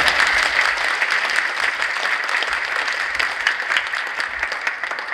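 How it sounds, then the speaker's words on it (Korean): An audience at a multicultural choir competition applauds warmly and steadily, a dense clapping that holds at an even level throughout. "큰 박수로 맞아주시면 좋겠습니다."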